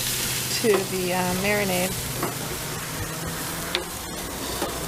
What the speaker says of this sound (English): I'm going to use my spatula to scrape it up.